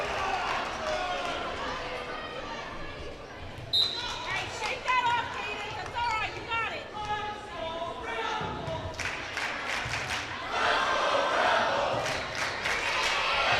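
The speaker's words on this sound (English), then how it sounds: "Hometown fans cheering on." Hometown fans cheer and shout in a gym at a high school volleyball playoff match, a loud, continuous crowd roar swelling near the end, with commentators talking over it.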